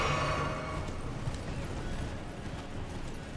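Horse hooves clip-clop softly in the video game Elden Ring, a faint run of hoofbeats under a low game background that fades a little after the opening second.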